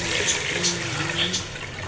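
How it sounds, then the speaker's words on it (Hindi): Water pours and splashes steadily into a cooking pot of chana dal pulao close by, a continuous gushing rush. "अब हम इसके अंदर डालते हैं पानी।"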